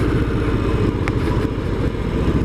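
A 2019 Harley-Davidson Street Bob motorcycle ridden on the road, its engine a steady loud low rumble with wind noise and no clear change in revs.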